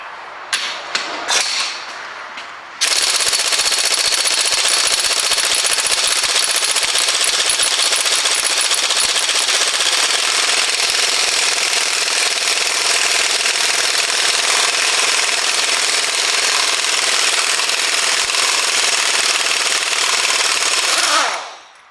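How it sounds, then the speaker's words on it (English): A powerful pneumatic air gun hammers on bolts of an Opel Zafira engine in a garage. A few short bursts come first, then one loud, continuous rattling blast of nearly twenty seconds that stops sharply. "well, it's good to have a nice powerful air gun"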